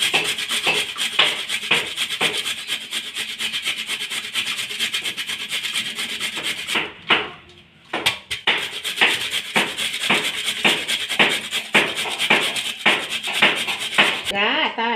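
Carrots are scraped against a hand grater for gajar halwa, a rapid run of close rasping strokes with a short break partway through, then continuing steadily.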